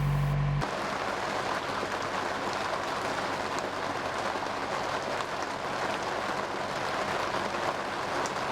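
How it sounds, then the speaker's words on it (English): Rain falls steadily on a narrowboat moored on the Llangollen Canal, an even, dense hiss of drops that stays constant throughout, with no talking. "It started raining"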